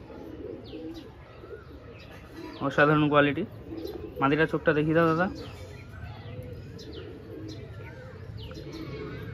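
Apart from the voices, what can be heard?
pigeons cooing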